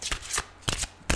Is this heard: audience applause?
no